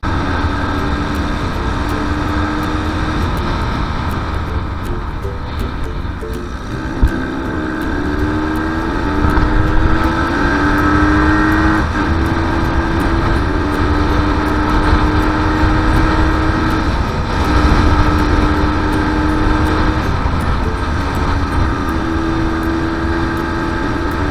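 A motorcycle rides along a road in the Gard toward the Pont du Gard, its engine a steady, close drone whose pitch shifts gently over a constant rush of wind, with no talking.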